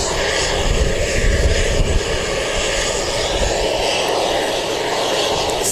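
A fixed-wing aircraft taking off for Westport from Wellington Airport gives a loud, steady engine roar that swells and rumbles heavily early on, then holds as a broad continuous drone.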